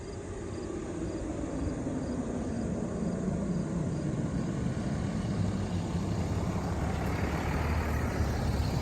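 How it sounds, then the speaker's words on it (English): A vehicle approaches and passes on a gently rolling country road in Ohio, heard from an electric recumbent trike, a steady rushing roar that swells slightly under constant wind noise. "Here comes a vehicle."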